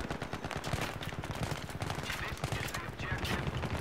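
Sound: tank shooting at the player in Battlefield 3 video game

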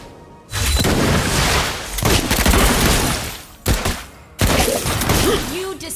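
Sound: gunfire from Clint in Mobile Legends video game

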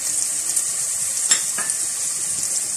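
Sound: garlic and ginger frying in a pan with tomato

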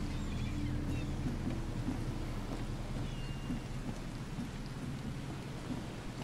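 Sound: rain in the video game The Sinking City

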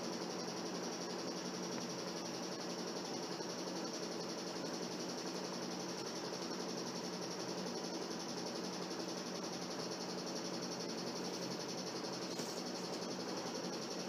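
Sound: sewing machine stitching sleeve pieces together

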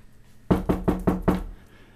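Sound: knocking on a door, story sound effect

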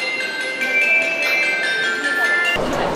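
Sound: Seoul subway train approaching alert sound

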